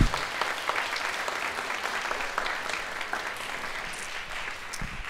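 A high school band concert audience claps continuously, a dense wash of many hands applauding at a steady level that eases slightly toward the end.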